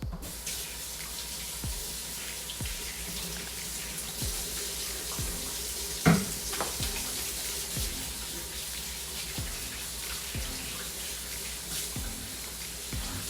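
A kitchen tap runs steadily while hands are washed under it, a continuous close stream of water with small splashes and one brief knock partway through, no talk.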